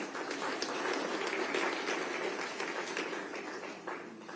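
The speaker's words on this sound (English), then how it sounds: "Let's give him a round of applause" Conference audience applauding a health minister at a TB summit, a dense, even patter of many hands clapping, steady and moderately distant, with no speech over it.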